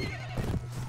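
Horses in the video game Mount and Blade Warband give a loud, close whinny over quick clip-clopping hooves in one short burst.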